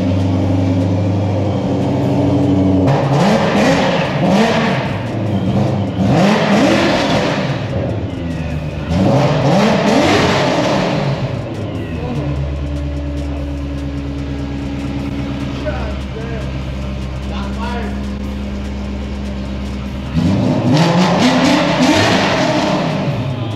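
Car engine revving hard toward redline in repeated rising surges with pauses between, loud and close, with voices talking over parts of it.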